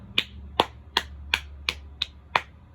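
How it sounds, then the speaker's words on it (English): One person claps hands seven times at a fairly steady, unhurried pace, each clap sharp and close, over a low steady hum. "I know I don't clap very well. I clap like a dummy"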